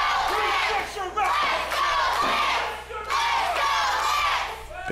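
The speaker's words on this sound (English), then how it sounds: "But you hear the crowd firing up." A crowd at a live wrestling show shouts and cheers in rising waves of chanting voices, a steady hum underneath and no commentary over the top.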